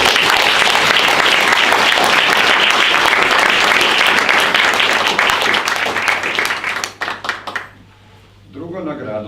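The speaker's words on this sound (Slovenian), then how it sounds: "Čeprav je ni, vseeno predlagam en aplavz." An audience at a ceremony for thesis and dissertation awards claps in dense, sustained applause for several seconds that thins to scattered claps and stops, followed by a voice speaking.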